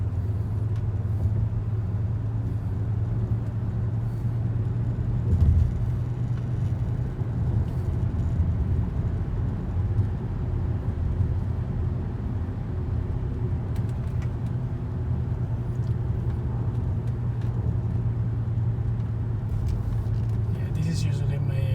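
Inside a high-mileage 2007 BMW 530i on a test drive, a steady low engine and road rumble drones throughout, with brief clicks and rattles.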